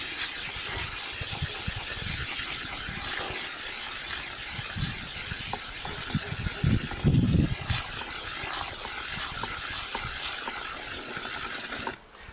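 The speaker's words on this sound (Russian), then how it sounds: "Наполняю новую воду." Fresh water gushes steadily into a container of grain being soaked for homemade malt, a continuous rushing pour with a brief heavier splash midway before it stops abruptly.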